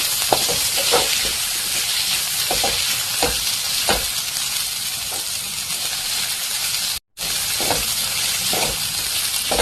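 Drumstick (sajna) dal mixture sizzles and fries steadily in a pan, a constant close hiss broken by regular stirring scrapes, with no talk.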